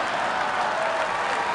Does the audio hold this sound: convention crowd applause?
yes